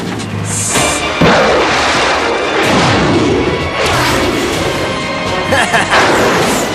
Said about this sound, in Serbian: Projektili sada kreću ka Gizogradu, gospodine.